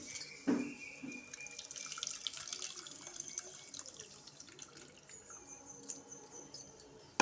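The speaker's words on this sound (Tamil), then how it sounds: "இப்போ அடுத்தது புளி தண்ணியை நம்ம கரைச்சிக்கலாம்." Tamarind being dissolved by hand in water for pepper rasam, giving soft, close splashing and sloshing with scattered drips and a brief louder swish near the start.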